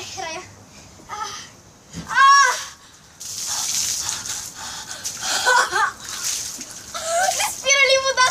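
A bucket of water is dumped over a person outdoors for the ice bucket challenge: a loud broadband gush and splatter runs for several seconds amid shrieks and excited voices talking.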